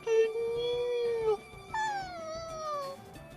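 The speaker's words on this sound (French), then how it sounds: "Ce couinement me dit rien qui vaille." A plush seal creature gives a high squealing whimper, two drawn-out wavering cries with a short break between them, loud and close over faint background music.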